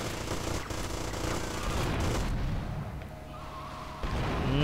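Gunfire in GTA: Vice City Stories, dense rapid bursts of shots with booming blasts, loud and continuous across the whole stretch with no talking.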